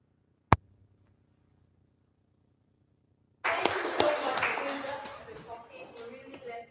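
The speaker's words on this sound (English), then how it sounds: "Please, a round of applause to yourselves, our participants." Audience applause at the close of a policy dialogue event, a burst of clapping that starts suddenly and then thins out gradually, preceded by a single sharp tap and a stretch of near silence.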